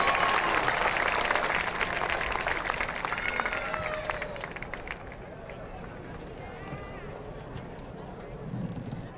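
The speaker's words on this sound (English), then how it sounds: "One more round of applause for our graduates, please." A large audience at the 2023 North Quincy High School graduation ceremony applauds, a dense roar of clapping that starts loud and broad, then thins and fades over the second half.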